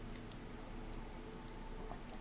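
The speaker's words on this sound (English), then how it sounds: "Hope it's okay that it's raining." Steady rain falls throughout a rainy outdoor scene in The Elder Scrolls Online, an even wash of patter with scattered individual drops, moderately loud and continuous with no talking.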